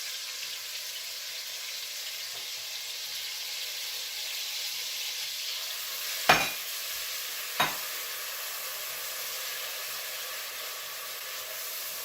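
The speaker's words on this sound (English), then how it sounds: "I'm going to just go ahead and throw my onions in" Onions sizzle in melted butter and bacon grease in a pan, a steady bright hiss throughout with two brief clattering bumps partway through, close and without talk.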